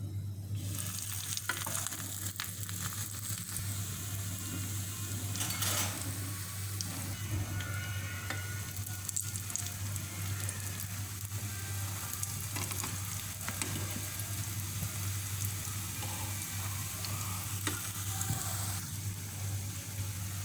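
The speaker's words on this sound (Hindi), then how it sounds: "अब ये मैंने सारे फ्राई कर लिए" Bread slices frying in hot oil for shahi tukray, a steady crackling sizzle running throughout at moderate level with a constant low hum underneath and occasional faint clinks, no talking.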